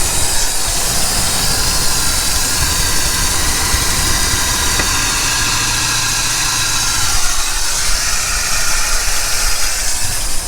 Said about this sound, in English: I got an engine right here next to me